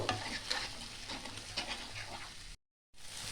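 Tomato paste with spices sautéing in a pan, a steady close sizzle with scraping stirs throughout, then a brief moment of silence before the frying resumes; no talking.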